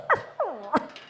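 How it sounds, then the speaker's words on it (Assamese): A puppy on stage at a rural cultural show gives three quick, close sounds: a short whimpering yip, a drawn-out whine, then a sharp little bark. "এতিয়া এই কুকুৰৰ পোৱালিটোৱে গীত গাব"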